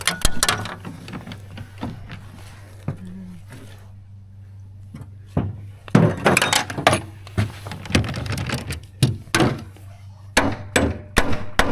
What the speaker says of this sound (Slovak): Z druhú stranu kladiva.